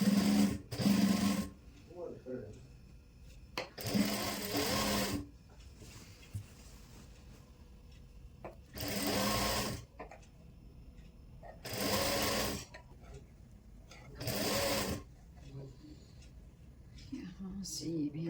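Sewing machine stitching a ready-to-wear saree, several loud bursts of rapid mechanical whirring a second or two long, separated by pauses, up close, with someone talking between runs.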